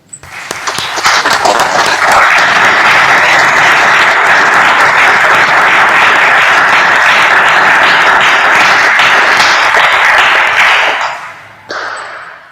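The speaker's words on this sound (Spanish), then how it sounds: "Aplaudamos vuestro logro." Sustained, loud applause fills a Supreme Court hall during a lawyers' swearing-in ceremony, a dense roar of many clapping hands that swells quickly, holds for about ten seconds, then fades out abruptly.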